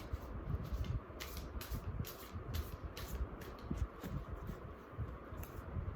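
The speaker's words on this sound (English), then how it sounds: "I'm gonna maybe shuffle one more time." A deck of tarot cards is shuffled by hand in repeated quick riffling bursts, soft, close and dry, with no voices.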